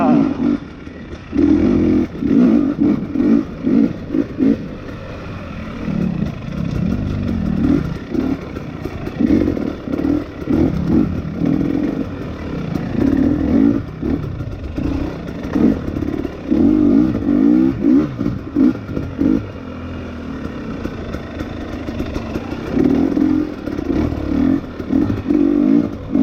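A 2020 KTM XC250tpi two-stroke dirt bike ridden on a trail, its engine revving up and dropping through gear changes, with chassis clatter and occasional brief talk from the rider.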